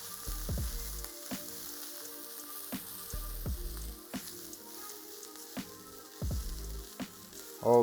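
Onions fry in a pan over low heat for a bacon cheeseburger, giving a soft continuous sizzle broken by several low knocks and clatters of utensils.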